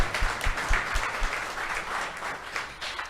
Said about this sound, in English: Let's clap for Jamie.